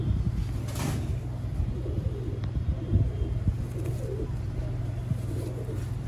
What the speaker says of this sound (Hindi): ये नादर ही सियालकोटी कबूतर ने